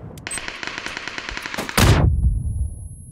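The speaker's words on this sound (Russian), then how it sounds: "Он с крыши стреляет или из-под забора?" Automatic gunfire rattles in a rapid, even burst in the PUBG shooter game, followed by a louder, sharper blast that decays into a rumbling tail.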